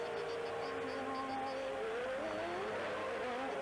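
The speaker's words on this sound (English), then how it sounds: "The cars lining up on the grid," Formula One cars rumble and rev while lining up on the grid at the 1993 Brazilian Grand Prix, several engine tones rising and falling under a constant distant crowd and track ambience.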